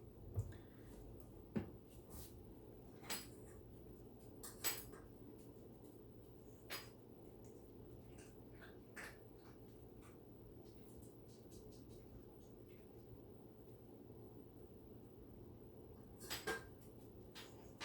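A rubber spatula scrapes creamy Philadelphia-style cheesecake batter with lemon zest out of a mixing bowl, giving soft repeated scrapes with scattered sharp clinks against the bowl over a low steady background hum.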